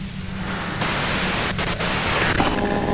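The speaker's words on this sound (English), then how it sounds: "you can do it through the white noise." Radio static fills the scene in the video game Disco Elysium, a loud, even hiss of white noise that swells, briefly drops out a few times, and continues throughout.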